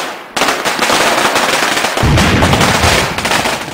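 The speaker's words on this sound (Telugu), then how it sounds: "ఎవరో ఇక్కడ బాంబులు కాల్చేస్తున్నారే" Firecrackers for a virtual Diwali play from a computer as a rapid, dense string of loud crackling bursts, continuous for several seconds, with a heavier booming stretch midway.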